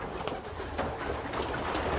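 Pigeons cooing in a home loft, soft low coos mixed with rustling and background noise at a steady moderate level, no talking.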